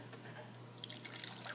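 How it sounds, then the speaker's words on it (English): Water poured from a container into a plastic cup sitting inside a large cylinder of rubbing alcohol, a soft, steady trickle with light splashy dribbles close by, fairly quiet and unbroken throughout. "then you're going to pour water into your cup"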